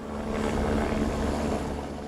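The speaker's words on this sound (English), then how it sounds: "the sound of the helicopters hovering and buzzing overhead" Helicopters hovering and buzzing overhead during an air rescue hoist operation, a continuous, fairly loud rotor thrum with a steady low throb and no pauses.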